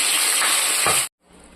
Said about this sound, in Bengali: এবার আমি মাছের মাথাগুলো ভেজে নেব